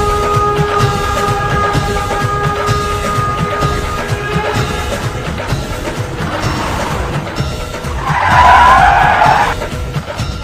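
A vehicle brakes to a stop: a steady road rumble runs throughout, then a loud, squealing skid rises near the end before easing off, with no voices.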